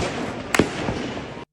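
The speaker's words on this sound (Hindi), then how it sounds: "मुजफ्फराबाद में बढ़ती भीड़ से बौखलाई वहां की पुलिस ने प्रदर्शनकारियों पर गोलियां चला दी" A single sharp gunshot cracks out as police fire on protesters in Muzaffarabad, followed by a fainter second pop, over a steady background hiss that cuts off abruptly.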